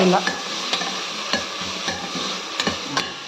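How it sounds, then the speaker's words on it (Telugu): Tomato and onion with a handful of coriander and mint frying in oil for mutton curry, with a steady sizzle and repeated scraping, mashing strokes of a spoon against the pan, close and continuous. "ఇలా బాగా ఆయిల్లోనే బాగా మ్యాష్ అవ్వాలి టమాటా ఆనియన్తో పాటు"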